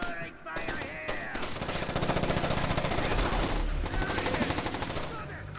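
Rapid gunfire fills the scene in Splinter Cell: Chaos Theory, with dense automatic bursts and repeated shots running loud and continuous, plus shouting voices mixed in.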